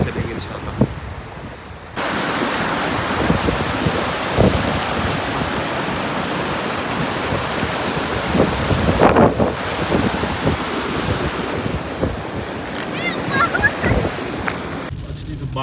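Strong gusty wind by cold water at a hill-country spot, roaring and buffeting a handheld microphone in a dense rumbling wash that kicks in after a quieter start and stays loud throughout.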